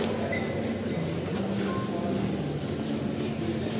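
A metro train ride in Barcelona, with a steady, dense rumble and rolling noise inside the carriage that runs without a break, no voices above it.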